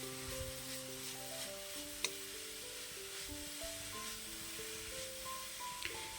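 Chopped banana flower stirred with turmeric powder in a hot pan gives a continuous soft sizzle and scraping stir, close and steady, with a faint tap of the spoon partway through.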